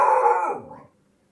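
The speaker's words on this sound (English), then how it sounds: "Killer attack dog." A single drawn-out dog bark, almost a howl, loud and close, tapering off into silence.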